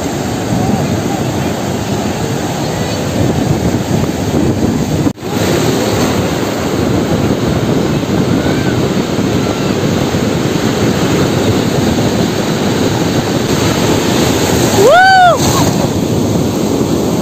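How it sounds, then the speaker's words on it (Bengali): Sea waves surge steadily onto Puri beach in a loud, continuous wash, with wind buffeting the microphone and a brief whistling sweep near the end. "আসছে স্রোত, আসছে স্রোত"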